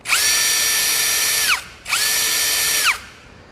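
A brushless cordless drill with a metal chuck, STR brand, whirs up to a high, steady whine twice, each burst about a second and a half, spinning down between them.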